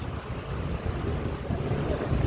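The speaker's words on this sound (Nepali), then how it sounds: "हावा चलिरहेको छ।" Wind gusts across the microphone outdoors by a city bus park, a steady rushing, buffeting roar with low rumble and no clear voices.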